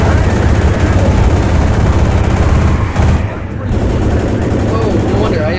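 Dense, continuous gunfire from Left 4 Dead gameplay fills the clip, with rapid shots layered over one another and a brief dip near the middle. Voices can be heard beneath the shooting.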